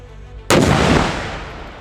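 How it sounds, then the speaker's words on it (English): One sudden loud blast of gunfire at an outdoor shooting range in North Alabama after a quiet moment, its booming echo rolling away and fading over the next second. "Firing in 3, 2, 1."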